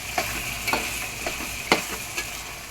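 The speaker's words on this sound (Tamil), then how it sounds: "முருங்கைக்காய், கத்திரிக்காய், உருளைக்கிழங்கு நல்லா இதில் ஒரு பரட்டிட்டு" Drumstick, brinjal and potato are stirred in a frying pan. About five distinct scraping strokes come at a steady, roughly half-second rhythm over a soft, constant sizzle, close by and moderately loud.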